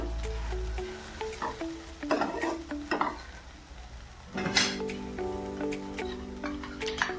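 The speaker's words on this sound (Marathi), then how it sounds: "थोडंसं तुपामध्ये रताळ्याचा किस भाजून घ्यायचा आहे" Grated sweet potato roasted and stirred in ghee in a pan, giving soft scraping stirs and faint sizzling in bursts with a louder clatter of stirring near the end, close up with no talk.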